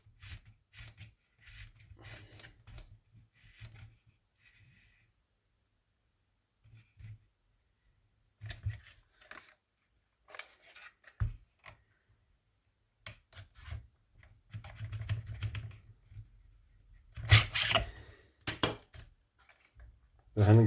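A barrel nut is fitted onto the handguard of a 3D-printed airsoft Scorpion EVO 3 replica. The work comes as intermittent bursts of close scraping, rubbing and clicking plastic, separated by quiet pauses, growing busier toward the end.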